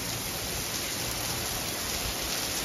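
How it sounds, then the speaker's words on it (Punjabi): Heavy rain pouring down in Punjab amid flood-like conditions, a dense continuous hiss of rainfall, steady and moderately loud throughout with no talking. "ਬਹੁਤ ਜ਼ਿਆਦਾ ਮੀਂਹ ਆ"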